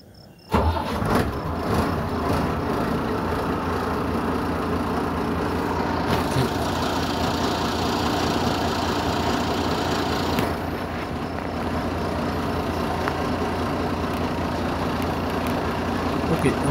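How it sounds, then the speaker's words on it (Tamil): An Ashok Leyland bus diesel engine cranks and catches, then idles steadily with a dense, continuous rumble close by; faint voices can be heard under the engine. "நம்ம ஸ்டார்ட் பண்ணி வண்டி எடுத்த உடனே ஃபுல் ஆக்சிலேட்டர் நம்ம வந்து யூஸ் பண்ணக்கூடாது, ஏன்னா வந்து என்ஜின் ரொம்ப கூலிங்கில் இருக்கும்"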